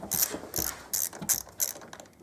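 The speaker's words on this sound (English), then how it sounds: "the yoke bolts, just literally loosen them right out" A hand ratchet loosens the yoke bolts on an Aprilia RSV Mille motorcycle in a garage, five quick clicking bursts in an even rhythm, close and fairly clear.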